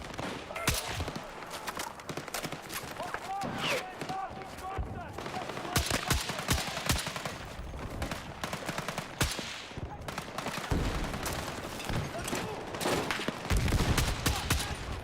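Video game gunfire in a fast weapon-testing session, repeated shots and bursts popping throughout, some sounding like rapid automatic fire, with a voice talking over the steady, dense action.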